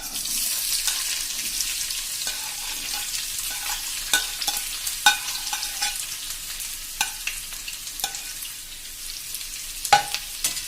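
Thinly sliced onions sauté in a pan with a steady broad sizzle, while a utensil scrapes and stirs in scattered knocks and clinks throughout.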